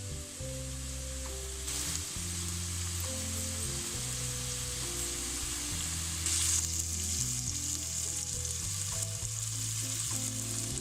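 Ginger garlic paste sizzles steadily in hot oil, a continuous crackling fry with soft music playing in the background.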